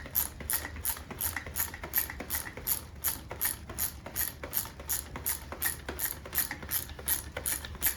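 A ratchet loosens a bolt on the suspension of a 2018-2021 Honda Accord, giving a fast, even series of close mechanical clicks that continues alone for several seconds.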